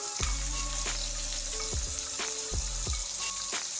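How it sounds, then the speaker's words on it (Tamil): Tomatoes sizzle in a hot pan, a steady frying hiss broken by occasional stirring clinks, with no talking. "தக்காளி நல்லா வதங்கட்டும்."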